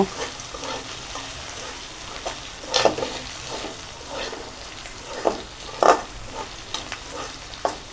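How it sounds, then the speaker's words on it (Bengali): Chopped tomatoes frying in a pan, a soft continuous sizzle broken by several louder scraping stirs of the spoon, close and moderately quiet, with no talking. "এখন এখানে দিয়ে দিব কটা টমেটো কুচি, নেড়ে ছেড়ে দিব"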